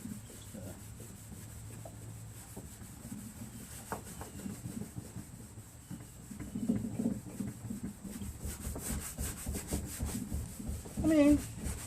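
Steady scrubbing and rubbing of spray paint being cleaned off a John Deere LA105 mower push bar with cleaner, a continuous close rasping texture that intensifies toward the end.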